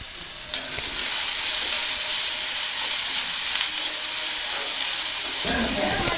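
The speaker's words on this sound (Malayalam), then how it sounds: "ഉള്ളിയിട്ട് ഒരല്പം ഉപ്പുപൊടിയും ഇടുക. എന്നിട്ട് നന്നായി വഴറ്റുക." Chopped onions and salt sautéing in a hot pan for a Kerala-style egg thoran, a steady loud sizzle and hiss that carries throughout with faint stirring scrapes, close by and free of speech.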